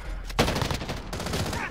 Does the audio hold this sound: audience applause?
no